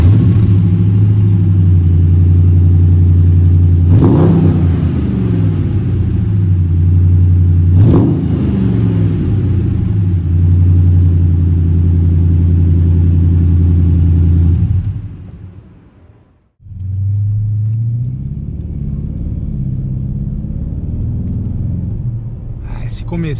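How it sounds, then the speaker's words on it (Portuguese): A 6.1-litre Hemi V8 in a Chrysler 300C SRT8 idles with a deep, loud rumble, blipping into sharp revs twice, cutting out briefly, then settling back into its throaty idle. "Esse comecinho é só para ouvir o V8"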